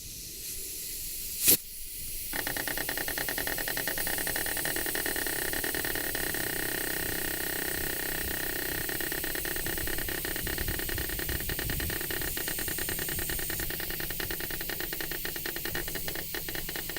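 A pancake air compressor blows a steady, continuous hiss of air into a tire, starting after a short click and holding at an even level for many seconds.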